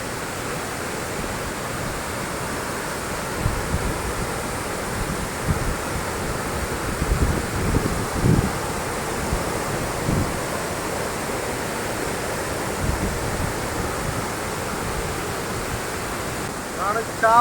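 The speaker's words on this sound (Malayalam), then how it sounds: "കാപ്ര വെള്ളച്ചാട്ടം" Kapra waterfall roars as a dense, constant rush of falling water outdoors, loud and steady with wind buffeting the microphone.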